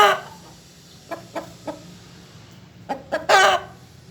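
Sindhi Aseel chickens cluck in short, separate bursts: a few soft clucks and then a louder cluster of calls near the end, with no talk.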